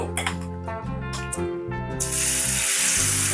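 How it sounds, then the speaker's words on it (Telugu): Egg and wheat-flour dosa batter hitting a hot pan, a bright spreading sizzle that swells to a steady hiss after a couple of seconds of quiet background music and small clinks. "నేను దోశ వేస్తున్నాను."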